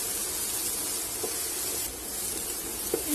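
Chopped onions hiss and sizzle in a pan with ginger, garlic and chili, a loud steady spray of frying noise with faint utensil taps, no voices.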